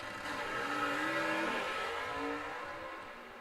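Drag racing cars, among them an '81 Corvette, on a Bowling Green strip, engines roaring and revving as the sound swells and then fades, heard from a distance with no voices.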